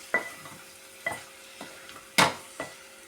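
A spoon stirs pond fish curry in a pan, with several distinct scraping knocks spaced about half a second apart over a faint sizzle, close by, with no talking.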